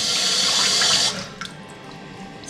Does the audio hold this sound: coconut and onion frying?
no